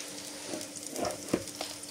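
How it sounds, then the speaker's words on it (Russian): Eggplant pieces fry in a pan on a home kitchen stove, giving a soft, continuous sizzle with a few faint clinks and stirring sounds close by. "Я начала жарить синенькие."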